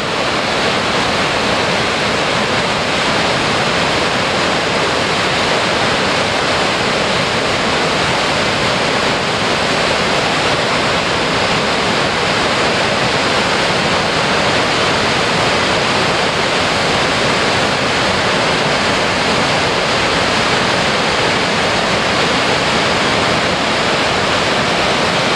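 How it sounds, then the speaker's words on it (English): Boulder River near Big Timber, Montana, roaring into a hole in a sandstone mountain, a steady, loud, unbroken rush of water holding constant for the whole stretch with no voices. "the hole where the river goes into isn't large enough to handle all the volume of water"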